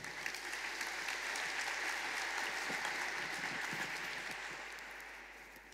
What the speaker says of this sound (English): Big round of applause for ourselves.